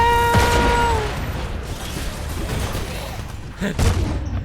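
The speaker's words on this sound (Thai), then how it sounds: "ปืนมันดีจริงนะ ปืนนี้แบบยิงยิงคนมันมาก" An R-301 rifle fires in the Titanfall 2 video game. Sharp bursts and booming shots come briefly near the start and again near the end, amid continuous game background noise.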